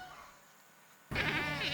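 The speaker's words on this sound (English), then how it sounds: "the goats eagerly run over for milking time" Dairy goats at milking time on a goat cheese farm: after a second of quiet, a single loud, wavering bleat breaks in close by and carries to the end.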